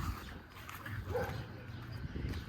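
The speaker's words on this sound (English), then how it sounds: "Yep, that's the dog right there." Dogs bark faintly in the distance, soft and intermittent, over a steady low outdoor hum.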